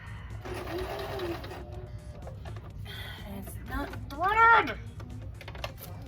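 A sewing machine with a ruffler foot stitching a skirt ruffle: bursts of rapid mechanical whirring and needle clatter, close and moderately loud, with a short higher whine near the end, while a voice talks in the background.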